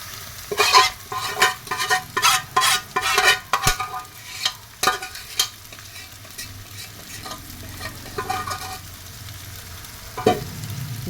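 Fish pieces coated in salt, turmeric and chili powder hit hot oil in a pan, giving bursts of loud crackling sizzle and stirring scrapes that settle into a steady frying hiss.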